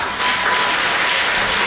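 Loud, close applause at a Mother's Day celebration at a maternity service in Agboville, a dense continuous wash of clapping with no distinct individual claps.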